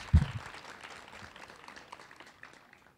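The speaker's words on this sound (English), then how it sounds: "Let's give them a round of applause as well." Applause for teachers and support staff during a virtual high school 2025 commencement ceremony: a dense, even patter of clapping that starts with a sharper burst and slowly fades over a few seconds.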